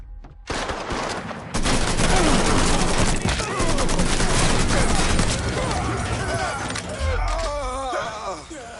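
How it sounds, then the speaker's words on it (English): Sustained gunfire in the Mafia 3 video game, bursts of shots crackling over a dense, loud mix of game sound, with a player's voice talking over the firing. "Can't move for him firing."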